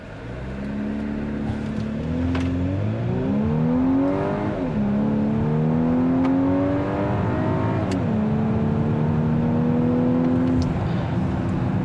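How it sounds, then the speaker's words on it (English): A 2024 Volkswagen Atlas Cross Sport R-Line SUV drives with a steady engine hum that rises and falls through the gear changes under constant road noise, heard from inside the cabin with nobody talking. "So kicking off the driving scene in the 2024 Atlas Cross Sport."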